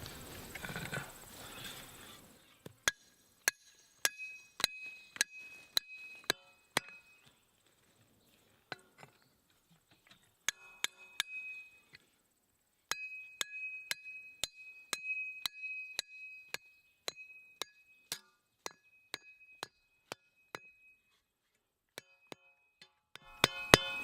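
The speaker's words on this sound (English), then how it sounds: "Shoot my stakes in." Stakes are driven into packed dirt with a series of sharp, close hammer strikes, irregular single blows and quick clusters separated by quiet pauses, with no talk.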